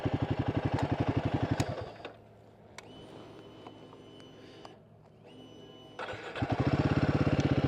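A Royal Enfield Himalayan motorcycle engine runs loud and rhythmic, drops away as it cuts out for an ignition cycle leaving faint ticking and a low hum, then fires again and settles into a strong, steady idle.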